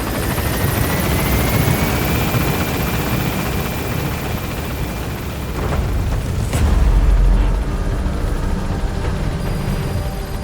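A helicopter in Metal Gear Solid V climbs with a steady, loud rotor roar, a rising whine running across it and a deep thump partway through.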